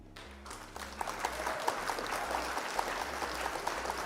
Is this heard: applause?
yes